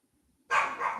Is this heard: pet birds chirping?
no